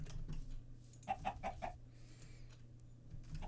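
A chicken in the video game Minecraft gives a quick run of four or five short clucks in a row, faint against a low steady background hum.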